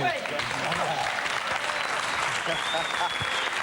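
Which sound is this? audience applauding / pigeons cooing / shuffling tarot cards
audience applauding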